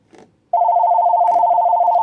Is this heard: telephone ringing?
yes